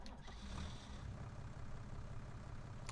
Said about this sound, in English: You can obviously tell it's a diesel, but it doesn't sound like it would be a tractor